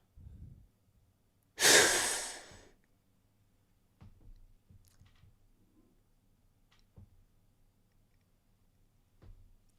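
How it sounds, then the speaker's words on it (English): One deep, forceful breath out, a loud breathy rush of about a second during a breathing exercise, with quiet room noise and faint ticks before and after. "Breathe out, empty your stomach."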